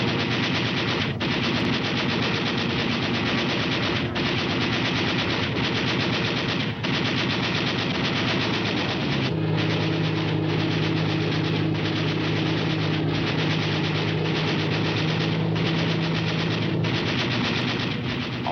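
Machine gun fire strafing Japanese fighter planes on the ground, heard as a continuous loud rattle of rapid bursts with an aircraft engine drone under it, all on a dense, noisy old wartime newsreel soundtrack.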